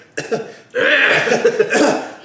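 A few harsh, raspy coughs close by, a short one first, then a longer hacking burst that sounds like someone coughing up something.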